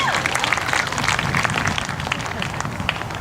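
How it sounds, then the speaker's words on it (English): An audience at a civil rights talk in Rhode Island breaks into applause, dense continuous clapping with a few louder claps and faint crowd noise throughout. "You can clap."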